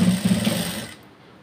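A sewing machine stitches through fabric in a short, steady burst of rapid mechanical pulses, close and fairly loud, then stops abruptly after about a second, leaving quiet.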